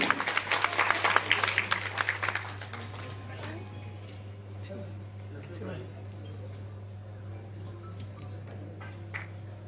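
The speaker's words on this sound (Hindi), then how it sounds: "जोरदार तालियां एवरीवन प्लीज" Applause from the audience at an award ceremony stage event, a dense burst of clapping for the first couple of seconds that then thins out beneath a steady hum and crowd murmur.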